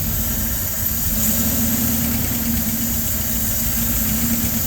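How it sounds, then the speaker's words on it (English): Exhaust from a LaSalle car engine with a fuel starvation problem drones steadily and close, an even low rumble holding without break, no voices. "Hopefully you hear the exhaust there"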